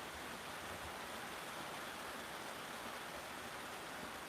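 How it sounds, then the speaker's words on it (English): Steady rain falls after a long dry spell, a constant even hiss of drops with no breaks and no voices, fairly soft throughout. "Finally, the rain's coming after we've had 3 weeks of dry weather."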